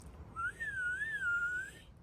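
A person at a camp outdoors whistles one loud, sustained, wavering tone that rises and dips for over a second, clear and alone against a quiet background.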